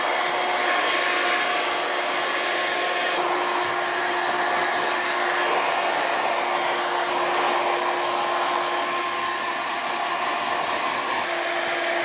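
Hair dryer blowing steadily while drying hair during a haircut, a loud constant whooshing hum with a fixed tonal whine, slight shifts as it moves around the head, no talk.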